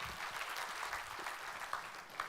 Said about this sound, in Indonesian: Berikan tepuk tangan buat Allah kita.